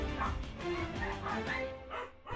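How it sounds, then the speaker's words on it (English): Several dogs bark and yip close by in an indoor home setting, short overlapping woofs and whimpers running throughout at fairly steady loudness. "the freaking dogs are crazy, and I have a bunch of them"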